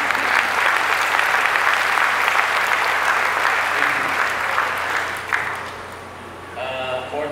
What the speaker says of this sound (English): Can we get a round of applause for the staff?